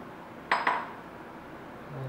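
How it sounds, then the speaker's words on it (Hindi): An Indian metal kadhai is set on the stove to warm palak soup, giving two quick, close metallic clinks in a quiet kitchen. "इसके हम कढ़ाई को रख देते हैं और इस सूप को थोड़ा सा हम इसे गर्म कर लेंगे"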